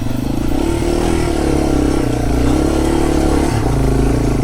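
A Yamaha TW200, a lightweight dirt bike, chugs steadily up loose terrain, its engine loud and close with a constant low drone that dips briefly near the end.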